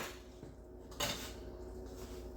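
A metal spoon scrapes and knocks around a pot of sauce thickened with cornstarch, a brief louder clatter standing out amid steady kitchen noise.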